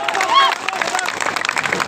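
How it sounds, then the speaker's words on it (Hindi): An audience claps at a live show, a scattered, uneven patter of hands with crowd murmur and a brief voice over it, moderately close and lasting under two seconds. "और तालियां जोर से बजाओ।"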